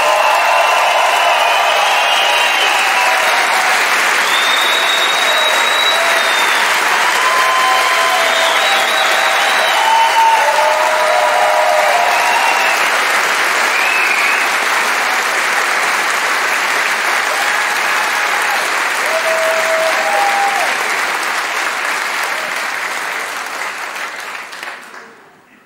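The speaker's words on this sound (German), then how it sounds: "mit einem kleinen Applaus kommt doch noch mal raus" A theatre audience at a 2007 Olaf Schubert comedy show gives loud, sustained applause with scattered whistles and cheers rising above the clapping, then fades out at the very end.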